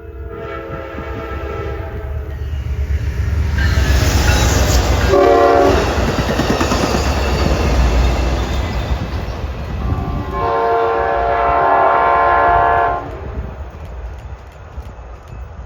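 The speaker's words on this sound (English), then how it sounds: "then the 2 westbound freights could make their move." Westbound freight trains pass through Duplainville, Wisconsin, with loud, sustained horn blasts sounding twice over a continuous rumble and clatter of rail cars, close and heavy throughout.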